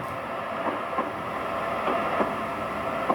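Amtrak ACS64 electric locomotive in a train simulator game, a steady rolling rumble with faint rhythmic wheel clicks over rail joints, running continuously at moderate level.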